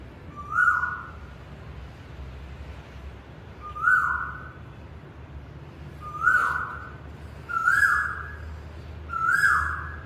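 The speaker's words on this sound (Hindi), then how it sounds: "आज है कोयल की मधुर आवाज़ का" An Asian koel calls five times at regular intervals a couple of seconds apart, each a clear rising whistle over a faint background hum, with no voices.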